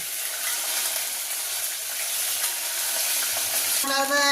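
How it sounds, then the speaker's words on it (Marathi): Green chili and coriander stirred in a hot pan while making kadhi, a loud close hissing sizzle with light stirring scrapes, ending in a brief tonal ring. "मिरची टाकीचे टाकू का कोथिंबीर दिली हलवून घेते"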